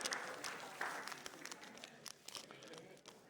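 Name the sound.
audience applause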